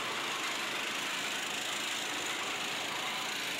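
A small racing kart engine revving steadily at a kart race, a continuous buzzing drone at constant loudness, heard from trackside with no talk.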